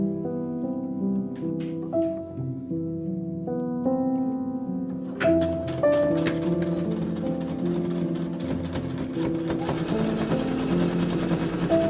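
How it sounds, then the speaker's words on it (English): A sewing machine stitches the edges of cafe curtains, its motor running in short starts and stops before settling into a longer continuous close whirring run. "I did go ahead and sew all of the edges on these cafe curtains"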